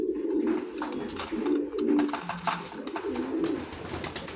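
Several racing pigeons coo in low, throaty, rolling phrases, overlapping at a close distance, with faint rustling and a few soft clicks between calls, as they are fed grit.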